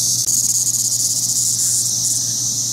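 A swarm of cicadas in Cincinnati during the 2021 emergence: a loud, dense, continuous high-pitched buzzing drone with a faint pulsing texture and a low background hum underneath.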